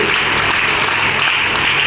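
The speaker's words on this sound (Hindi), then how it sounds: "एक जोरदार ताली हम सबके महागुरु" Loud, dense applause from a large crowd, sustained evenly throughout.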